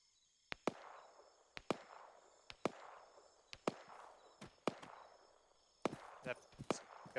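Distant gunfire in an Arma 3 milsim operation, with sharp single shots cracking at irregular intervals about a second apart, followed by a quick cluster near the end, under quiet radio talk.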